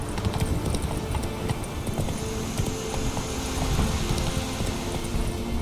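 Roach, a horse in The Witcher 3 video game, gallops in a steady, fast clip-clop of hooves under a dense, loud rumble of movement and ambience, with no clear talk.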